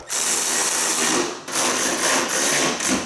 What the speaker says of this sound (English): So I'm gonna go ahead and start putting the bolts back in.